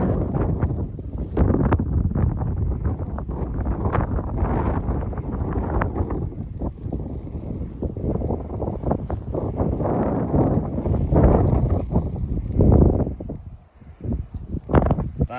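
Strong gusty wind on the West Highland Way buffeting the microphone, a loud continuous rumbling roar that surges and eases over fifteen seconds, with a brief lull near the end.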